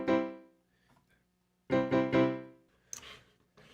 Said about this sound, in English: So that's a keyboard sound.